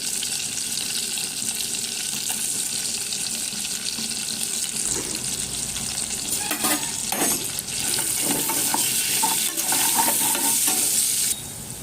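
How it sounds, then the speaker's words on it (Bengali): Leafy greens and shrimp frying in a pan, a continuous close sizzle with stirring scrapes and clinks throughout, no talking. "এর মধ্যে কিছু চিংড়ি মাছ দিয়ে আমি শাকটাও ভেজে নেবো"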